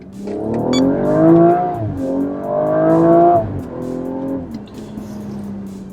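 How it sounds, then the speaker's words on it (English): A BMW M135i XHP Stage 3 accelerates hard at wide open throttle, its engine note climbing loudly through two rising sweeps with brief dips at gear changes, then settling to a steady drone. "Now on wide open throttle, that's all right."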